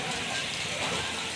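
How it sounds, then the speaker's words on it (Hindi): Heavy monsoon rain pours down in a dense, steady hiss, loud and close, with a faint voice partly masked beneath it. "कितनी तेज़ बारिश हो रही है"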